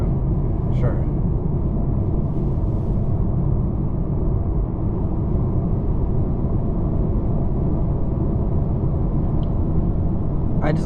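A 2025 Acura TLX A-Spec on a night drive, with steady, dense road and engine rumble filling the cabin throughout and only faint higher detail above it.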